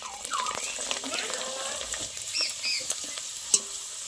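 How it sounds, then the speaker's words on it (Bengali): Flour papad puffing and frying in hot oil, a steady crackling sizzle running throughout with scattered pops and one sharp crack near the end, heard close up. "এই দেখুন এতটা ভাজা হয়ে গেছে"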